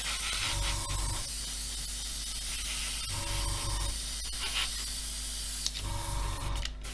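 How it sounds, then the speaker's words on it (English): An airbrush sprays paint over masking tape on an Airfix 1/24 F6F-5 Hellcat model kit, a steady close hiss with a faint compressor hum behind it, coming in three repeated pulses of a second or so each. "keeping the airbrush angled over so I'm blowing away from the masking tape, not into it"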